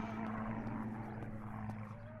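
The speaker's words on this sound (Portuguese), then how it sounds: "Barulho de avião." An airplane drones overhead in the video game Martha Is Dead, a faint, steady propeller hum with a sustained low tone, heard alone.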